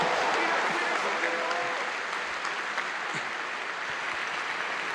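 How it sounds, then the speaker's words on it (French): A crowd at a New Year's greetings ceremony applauds steadily, broad even clapping held at a constant level throughout, with faint voices mixed underneath. "ça s'applaudit quand même"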